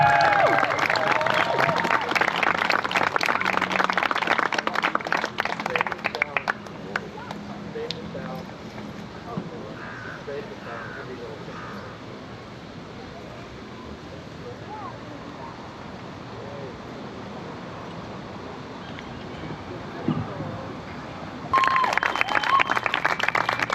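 A crowd at a Palestine rally in Bristol claps loudly, then the applause fades to quieter scattered clapping and murmur before a loud burst of clapping returns near the end.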